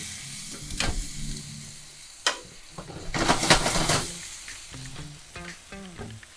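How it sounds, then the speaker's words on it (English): Wide rice noodles for pad see ew frying in a hot wok, with a steady sizzle and spatula scrapes and clanks that swell in the middle and fade to lighter tapping. "They're kind of gonna continue to cook just a little bit longer over here in our wok."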